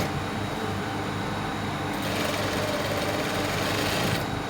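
A sewing machine stitches fabric for a shirred crop top, a steady fast mechanical whirr that runs continuously and grows slightly brighter midway, close and even, with no talking.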